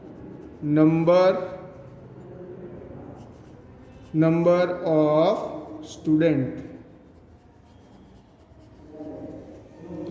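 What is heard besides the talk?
writing on paper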